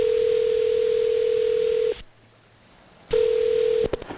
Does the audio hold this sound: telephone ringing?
yes